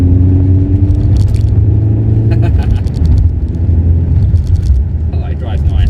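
An MG ZT car drives with its rear suspension arms newly repaired, giving a loud, constant engine and road rumble heard from close by, with light rattles and clinks on top.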